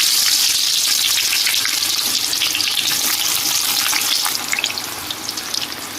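Sliced onions deep frying in hot oil for chicken dum biryani, a loud, dense, steady sizzle that eases off slightly toward the end, with no voices over it.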